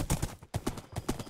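Horse hooves clop in Minecraft as a gold-armored horse trots along, a steady run of paired hoofbeats repeating about three times, close and alone with no talk.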